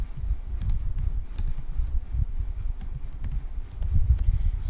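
Computer keyboard typing while composing a short prank error message on a Windows PC: soft, close key clicks in an irregular, steady rhythm throughout, with no voices.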